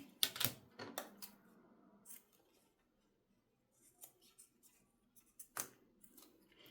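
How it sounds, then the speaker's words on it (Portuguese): Old scissors snip through a zipper for a sewing project, a few sharp close cuts at the start, more quiet clicks later and another crisp snip near the end, with no talking. "Sempre cortem o zíper com uma tesoura velha, para não estragar a tesoura de tecido de vocês"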